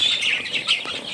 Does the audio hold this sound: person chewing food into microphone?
no